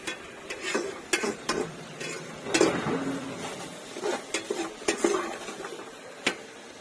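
A spoon scrapes and clinks against a pan as potato curry is stirred at a roadside cooking stop on a lorry trip. The scrapes are sharp and irregular over a faint sizzle, close and fairly quiet.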